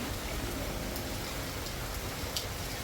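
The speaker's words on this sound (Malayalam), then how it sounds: "ഞാനിങ്ങനെ മുറ്റത്തോട്ട് ഇറങ്ങി നിന്ന് മഴ കാണുന്നു." Steady rain falling outdoors, a constant dense hiss of drops on surfaces with no voices, even and moderately loud throughout.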